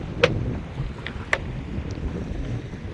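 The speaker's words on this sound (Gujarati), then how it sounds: "પવન નીકળી આવ્યો ફૂલ આ મોજો થઈ ગયો ફૂલ" Strong wind and high sea waves at a fishing coast, a steady close rushing roar of wind and water with a few brief knocks, no voices.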